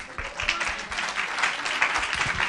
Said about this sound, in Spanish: Un buen aplauso te damos